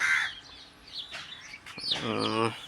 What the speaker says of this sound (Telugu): ఆ తల్లి కోడి వెనకాల ఈ పిల్లలు తిరుగుతున్నాయి కదండి